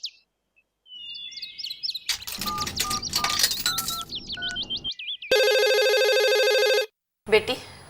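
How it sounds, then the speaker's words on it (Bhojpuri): A telephone rings in the middle of a Bhojpuri home drama: an electronic ringtone with a steady warbling tone for over a second, amid music and chirpy effects, followed by a short burst of sound. "बेटी तनी देखा तो केकर फोन है।"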